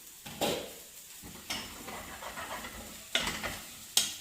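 Onions cooking in a pan are stirred at close range, giving a soft sizzling hiss broken by several scraping, clattering stirs of the spoon against the pan.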